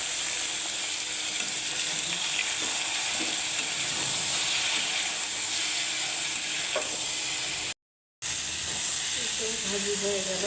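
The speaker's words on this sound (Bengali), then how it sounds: "এখন হচ্ছে মিষ্টি কুমড়া ভাজি করে দেবো" Sweet pumpkin sizzles and hisses steadily in a hot frying pan, close and continuous, with occasional stirring scrapes and a voice talking over it.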